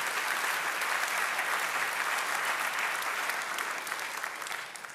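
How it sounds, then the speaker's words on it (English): Congregation applauding during a church service, a thick, continuous roar of many hands that holds steady and then tapers slightly at the end. "let's give him a round of applause."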